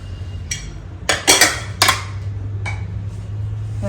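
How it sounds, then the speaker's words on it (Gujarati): A pressure cooker lid is opened after cooking rajma and urad dal for dal makhani, giving a few sharp metallic clanks and clinks close by over a low steady hum, with no talking. "કુકર ખોલું છું।"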